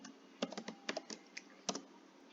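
Typing Python code on a computer keyboard: a quick run of light, close key clicks in uneven bursts, alone and fairly soft.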